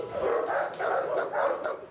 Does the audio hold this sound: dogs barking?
yes